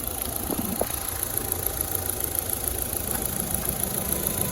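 A 2010 Ford Figo petrol car idles with a steady, even engine hum and a faint mechanical ticking, a constant close drone with no talk over it.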